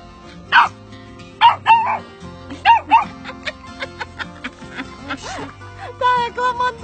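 A hungry rescued stray dog, called a wolf, barks and yelps several times in quick bursts close by, with a whiny, howling edge and some people talking faintly in the background.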